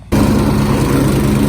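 An old Snapper riding lawn mower, left sitting for six years, kicks into life after a brief quiet moment, then runs loud and close with a steady, rough engine drone.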